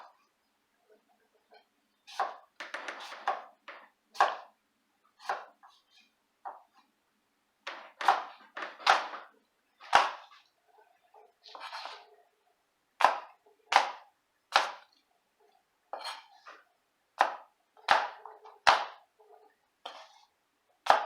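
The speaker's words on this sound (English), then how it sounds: "Apples, dicing very similar to the sweet potato, trying to keep the size as even as possible." Knife dicing apples on a cutting board, a long run of sharp chopping taps in irregular bursts and pauses, close and clear with no voices.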